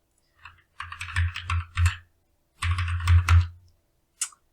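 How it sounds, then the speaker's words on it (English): A command is typed on a computer keyboard in two quick bursts of close, crisp key clicks separated by a short pause, ending with a single isolated keystroke. "I'm just going to type in sudo service PostgreSQL."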